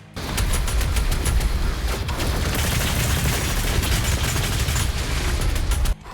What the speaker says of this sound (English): The sound of every punch with every shot that this here dakka dishes out.